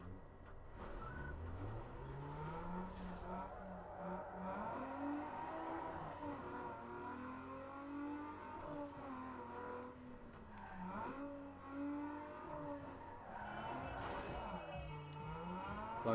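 A Nissan 350Z with a 3.5 litre V6 revs and shifts in Need for Speed Underground 2, a continuous engine drone rising and falling in pitch through gear changes, with a brief tire squeal near the end.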